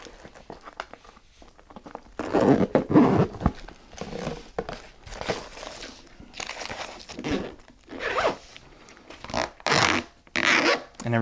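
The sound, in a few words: zipper on storage case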